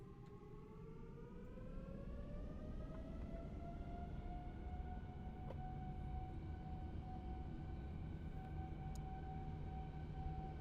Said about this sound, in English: Takeoff power is set.